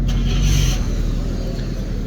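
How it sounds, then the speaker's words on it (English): A Mercedes C63 wagon drives by on a Milan street, a loud, close engine rumble with a brief rise in the first moment and then a steady passing drone, with no voices. "It was making the way for this C63 Wagon."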